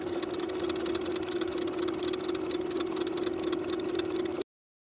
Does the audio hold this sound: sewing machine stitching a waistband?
yes